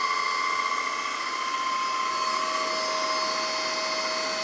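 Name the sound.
APOSEN handheld cordless vacuum running with low-pitched spinning head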